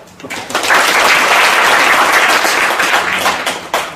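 Audience applause at an Australian real estate seminar held in Korea, swelling quickly from a few claps into loud, dense clapping that holds steady, then tapers with a few final claps.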